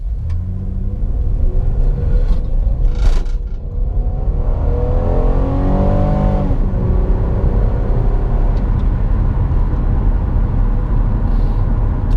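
A car engine accelerates hard during a 0 to 60 mph run, a loud sustained rumble and groan rising in pitch as the car gathers speed, with steady road noise filling all twelve seconds and no voices.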